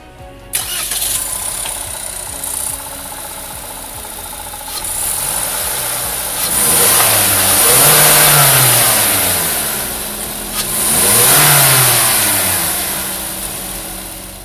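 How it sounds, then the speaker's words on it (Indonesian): A 2021 Toyota Harrier engine cranks and starts, settles into a steady idle, then revs up twice in smooth rising and falling swells, loud and close. "Yuk kita dengar suara mesinnya kayak apa."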